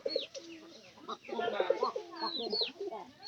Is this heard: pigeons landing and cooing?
yes